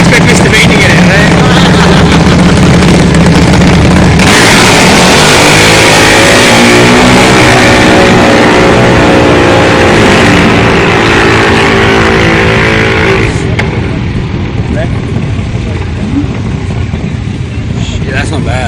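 A drag racing car makes its run at Winternats, Willowbank: a loud, close engine roar climbs steadily through its gears with wind buffeting, then the sound drops away abruptly near the end.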